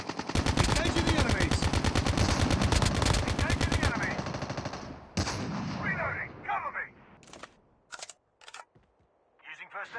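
Rapid automatic gunfire from a Call of Duty match, a dense burst of shots lasting several seconds followed by scattered single cracks and short bursts, with voices talking over the action.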